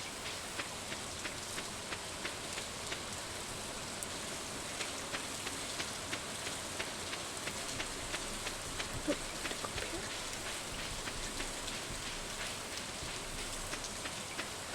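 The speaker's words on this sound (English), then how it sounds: "The sound of rain is so nice." Video game rain in Stardew Valley pours down continuously, a dense hiss with scattered drop ticks, even and unbroken throughout.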